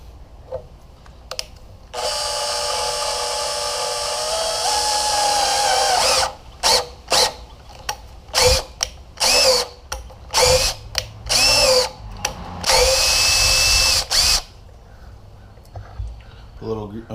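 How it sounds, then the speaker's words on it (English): A power drill drives a thread tap slowly into metal during a grapple bucket repair, whining in one long steady run and then in a series of short stop-start bursts, loud and close. "Just put the tap in the drill. I'm just going to go at it real slow and deliberate"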